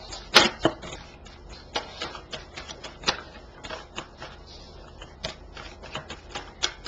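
Crisp, irregular riffles and slaps of a tarot deck being shuffled, close by, with sharp clicks and a louder burst near the start, no voices.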